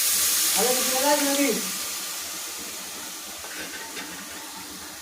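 Water poured into a pan of fried rice for pulao sets off a loud hissing sizzle that eases into a steady, softer steam hiss, with a brief voice at the start.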